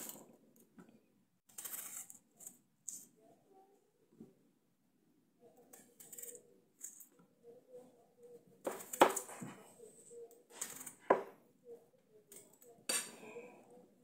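A knife cutting unpeeled potatoes on a board in a home kitchen, giving scattered clicks and sharp chopping taps and scraping mixed with quiet talk.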